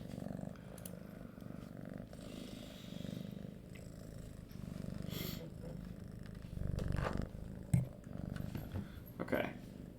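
A sleepy cat purrs close up, a steady low rumbling that continues throughout, with a few soft bumps and rustles on top.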